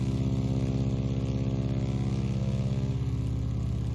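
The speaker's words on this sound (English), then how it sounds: "can you hear that big radial engine, that 7-cylinder? Unmistakable sound" A steady, close seven-cylinder radial piston engine of a Stearman biplane in a flight simulator drones with a rapid, even pulsing throb, running alone without pause.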